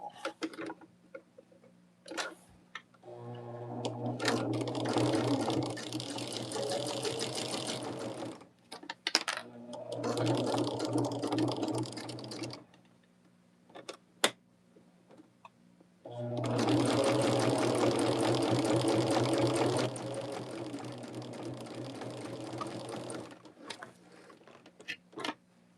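A sewing machine stitches quilt block pieces in three bursts of steady, rhythmic whirring, stopping and starting between them, close and fairly loud, with brief pauses of near silence.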